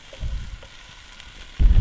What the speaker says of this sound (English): frying off some onion and thinly sliced potato in a pan